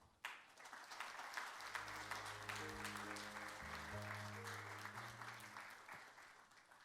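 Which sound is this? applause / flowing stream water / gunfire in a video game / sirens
applause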